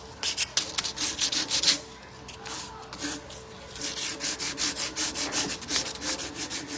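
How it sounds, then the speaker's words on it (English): Coarse sandpaper rubbed by hand over chipped, damaged wooden bedroom furniture, a close, steady series of rasping back-and-forth strokes with a brief pause midway, no talking. "You can get foam blocks as well, and then you can use the coarser sandpapers on those as well."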